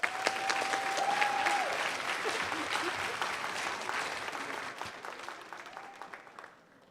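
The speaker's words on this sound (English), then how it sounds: "I give them a round of applause." Sustained applause from an audience at an elementary school awards ceremony, a dense wash of clapping that holds steady before tapering off near the end.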